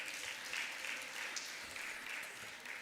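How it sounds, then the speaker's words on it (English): An audience at a municipal association gathering gives a round of applause, producing a continuous wash of clapping that stays steady and moderately loud throughout. "A round of applause once more."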